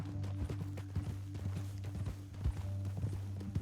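Horse hooves clip-clop steadily on the ground in Red Dead Redemption 2, a repeated rhythmic beat heard close over a low steady game hum.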